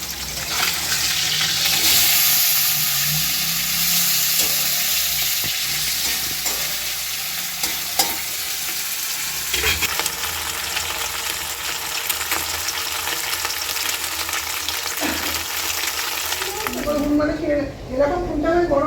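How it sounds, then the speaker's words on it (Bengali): Four pieces of fish fry in a pan with a loud, continuous sizzle and crackle close by, broken by occasional stirring and water sounds, while people talk over it. "মা মাছ ভাজতে আরম্ভ করেছে, মাছ ভাজা হয়ে আসছে, 4 পিস মাছ"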